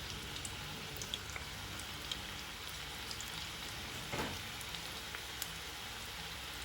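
Spoonfuls of onion pakodi batter dropped into hot oil fry with a steady, dense crackling sizzle, close by and even in level, with no one talking.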